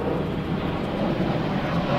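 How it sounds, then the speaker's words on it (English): Space Shuttle orbiter touching down on runway 15 at Kennedy Space Center, a steady loud broadband roar and rumble of rushing air and wheels that holds even throughout. "Coming into touchdown on runway 15 at the Kennedy Space Center"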